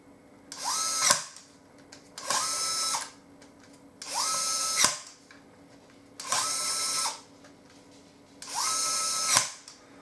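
Kolver electric screwdriver driving screws, five separate bursts of high motor whine, each rising, holding about a second and ending in a click, with short quiet gaps between them.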